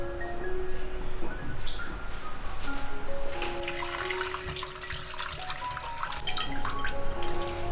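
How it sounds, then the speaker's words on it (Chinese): Pork ribs rinsed under a running tap, continuous splashing and trickling water at close range with a brief scraping stretch midway. "然后再用清水冲洗干净"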